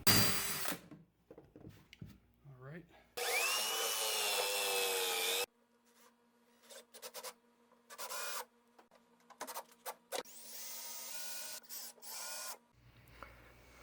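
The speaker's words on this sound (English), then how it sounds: "it's best if I just go ahead and just punch holes straight through" Holes are drilled through wood for homemade Japanese forge bellows (fuigo), heard as bursts of loud grinding and whirring broken by pauses, quieter scraping and handling clatter, close by.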